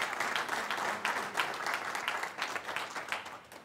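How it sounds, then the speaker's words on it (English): Applause from a church congregation during a Sunday service, a dense, steady wash of many hands clapping at moderate level, continuous for several seconds with no talk over it. "Give them a round of applause."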